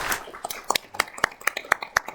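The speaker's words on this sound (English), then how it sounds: "applause" A few people clap in a steady, evenly spaced rhythm, close and crisp, with about a dozen distinct sharp claps over a couple of seconds.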